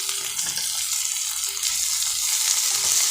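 Carrot and tomato sautéing in a pan, a steady close sizzle with light stirring throughout.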